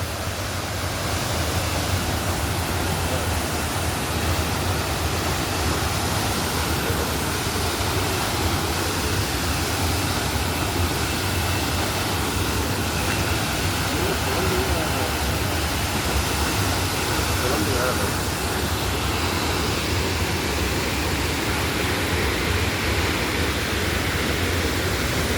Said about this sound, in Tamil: அருவியின் கீழ் பகுதிக்கு வந்து விட்டோம் நண்பர்களே.